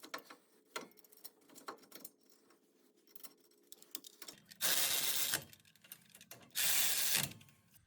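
A ratchet clicks in rapid bursts while tightening brake caliper bolts on a Ford F-150 during a front brake job, with lighter metallic handling sounds early on and two louder, sustained ratcheting runs later.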